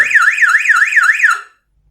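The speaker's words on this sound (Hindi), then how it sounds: "ये टाइमर काम करना शुरू कर देगा और इस स्पीकर में अलार्म बजना शुरू हो जाएगा।" An auto-resetting mains power failure alarm circuit sounds through a speaker with a loud, rapidly warbling electronic siren. It cuts off after about a second and a half, leaving silence.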